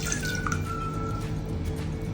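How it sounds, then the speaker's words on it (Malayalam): Half a cup of water poured over chicken in a pressure cooker, a close, steady liquid splashing and dripping that runs on for a couple of seconds. "ഇതിലേക്ക് നമുക്കൊരു 1/2 കപ്പ് വെള്ളം ഒഴിക്കാം"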